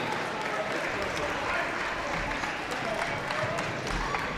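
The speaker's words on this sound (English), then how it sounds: "How about a nice round of applause for our officials" Crowd at a high school girls basketball game, Perham versus Breckenridge, applauds the game officials, a continuous wash of clapping in a large gym with a faint voice underneath.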